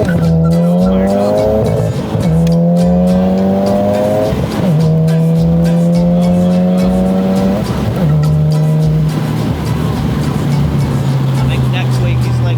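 A Volkswagen Golf R accelerates hard with traction control on, its loud engine note climbing steeply through four quick gear shifts, each ending in a brief dip, then droning on at speed while voices talk over it inside the car.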